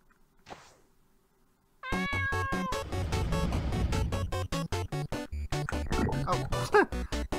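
A cat in a video game meows and caterwauls loudly and repeatedly in a dense, continuous run of yowls after a brief quiet start.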